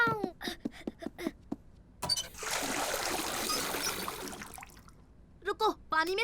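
Cartoon water pouring for a washing job, a steady splashing trickle running about two seconds at moderate loudness, framed by lively animated voices talking before and after.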